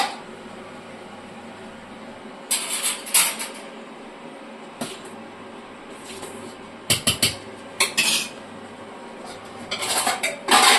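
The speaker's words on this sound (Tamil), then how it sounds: "கடாய் வச்சுட்டேன், எண்ணெய் ஊற்றிக்கலாம்." Metal kadai set down on a stove with clanks and clatters of utensils, sharp metallic knocks in irregular bursts over a quiet kitchen background.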